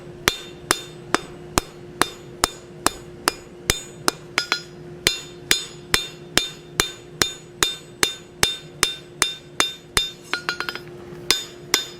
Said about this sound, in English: we're going to start at the front edge and draw to the back with that cross peen